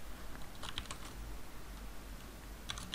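Quiet typing on a computer keyboard, with a short burst of keystrokes, a pause, then another brief cluster of taps under a steady low background hum.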